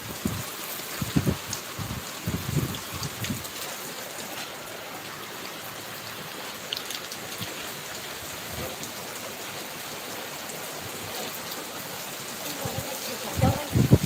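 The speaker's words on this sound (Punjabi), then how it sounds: "ਪੂਰਾ ਵਧੀਆ ਮੀਂਹ ਪੈਣਾ ਸ਼ੁਰੂ ਹੋ ਚੁੱਕਿਆ" Steady rain falling with a constant hiss, with brief louder bursts of nearby movement at the start and end.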